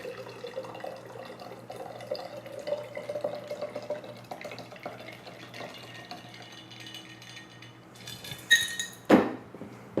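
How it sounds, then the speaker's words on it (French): A shaken cocktail is poured from a shaker into a glass in a soft, trickling stream, with faint metallic clinks and a sharper clink near the end. "On verse."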